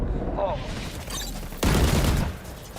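Rapid bursts of gunfire in a video game, a loud fusillade breaking out midway after quieter shots, with an announcer's voice heard over the action.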